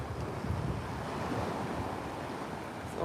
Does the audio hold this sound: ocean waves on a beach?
yes